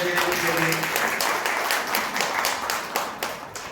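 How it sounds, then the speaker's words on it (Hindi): An audience at a Yoga Day celebration breaks into loud applause for a helper, dense clapping that fades slightly toward the end. "बार जोरदार तालियां नजेश जी के लिए"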